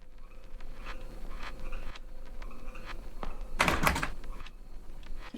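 A locked sliding door wrapped in barbed wire rattles as it is tried in the horror game Detention, a burst of metallic clattering and thunks rising over a quiet ambient bed, with small clicks before and after.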